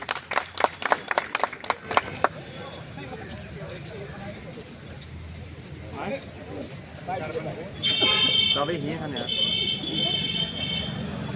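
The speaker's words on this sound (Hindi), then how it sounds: "आप सभी इनके सम्मान में एक बार जोरदार ताली बजाएं" Applause from an audience gathered to honour a speaker at a public event, steady clapping under a voice, starting with a burst of sharp claps and swelling louder near the end.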